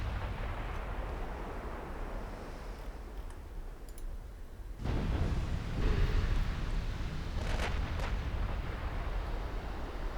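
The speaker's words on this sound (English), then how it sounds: "Now it's Zhongzhan firing back." Naval gunfire from warships in Ultimate Admiral Dreadnoughts, a single heavy shot booming in at about five seconds and lifting a rumbling, crackling battle din that continues over steady background noise.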